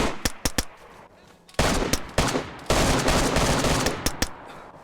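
Video game gunfire in a multiplayer shooter: several quick single shots, then dense sustained automatic bursts loud and close, ending with scattered sharp cracks.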